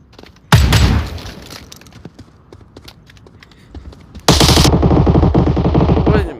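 Gunfire at a shooting range in a video game, two loud bursts of rapid automatic shots, one short early and one sustained at the end, with scattered single cracks between.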